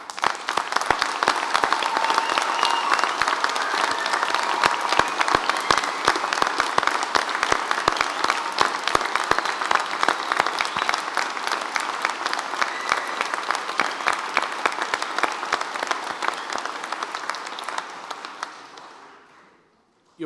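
Sustained applause from a large audience at a Cambridge University graduation ceremony in October 2016, dense steady clapping filling the hall for about eighteen seconds before fading out.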